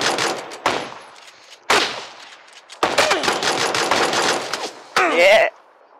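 Loud, close automatic gunfire in the battle royale game PUBG, several rapid bursts separated by brief pauses, with a short burst of speech near the end.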